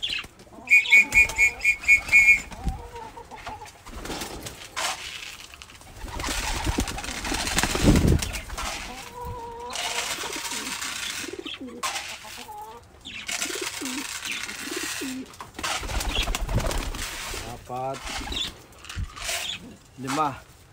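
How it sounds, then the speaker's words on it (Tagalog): Blue bar pigeons cooing and clucking in short bursts close by, mixed with people talking and some handling noise throughout. "So ito yung mga ibon natin."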